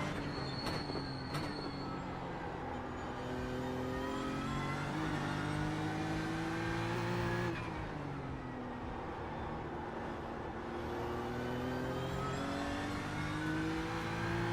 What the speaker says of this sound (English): Pretty impressive to make a GT3 race car sound so bad.